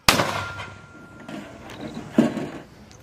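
A mortar fires during a U.S. and Indonesian Marine exercise, giving a loud, sharp blast with a rumbling tail. A second, softer thump follows about two seconds later, out in the open with no talking.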